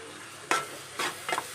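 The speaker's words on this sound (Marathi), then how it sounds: "छान त्या मसाल्यामध्ये परतून घ्यायचे" Ground paste being stir-fried into oil-based masala for chole in a pan, heard as three short scraping, sizzling stirs spaced about half a second apart over a faint low background.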